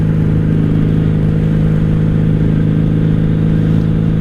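A 1997 Honda Magna 750 VF750C motorcycle rides steadily, giving a loud, constant low engine drone with rushing wind noise.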